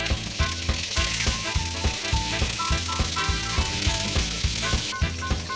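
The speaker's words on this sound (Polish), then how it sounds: "Tak przygotowane żeberka podsmażam na oleju roślinnym." Pork ribs seasoned with salt and pepper sizzle steadily in vegetable oil in a frying pan, a constant hiss running under loud rhythmic background music throughout.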